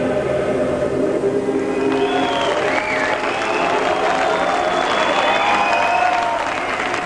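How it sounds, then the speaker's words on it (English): Crowd at the world premiere of a David Lynch film gives a sustained standing ovation: dense, even clapping throughout, with whistles rising above it and a murmur of voices. "At the world premiere, it received a standing ovation."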